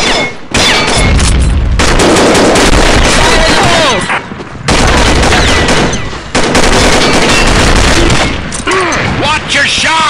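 Video game firefight with a grenade blast and heavy automatic gunfire, loud bursts of shots and booms broken by brief pauses, with shouted voices over the action.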